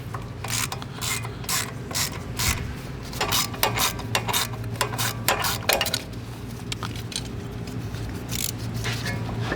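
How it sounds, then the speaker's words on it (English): A socket ratchet loosens a 10mm bolt on a 2020-or-newer GM 2500 pickup during a 3-inch lift kit install, giving a rapid close clicking in quick bursts with brief pauses between them, no talk. "you'll need a 10mm socket and take this bolt out here"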